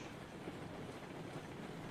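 Train rolling on rails in the video game Railroads Online, a faint, steady rumbling hiss of wheels on track heard at a distance, with no voices.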